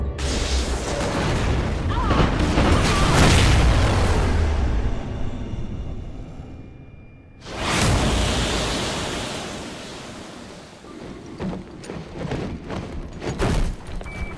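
A space station detonation in the video game Call of Duty Ghosts: a heavy rumbling blast swells and fades, then a second loud roaring boom surges and rolls on with crackling debris as voices speak over it.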